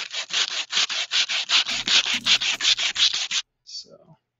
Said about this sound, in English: if anybody likes the sound of sanding, oh, I have hours of it.